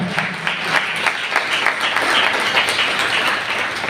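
Sustained applause from a church congregation during a Sunday worship service, steady and fairly dense, filling the space with a continuous patter of many hands.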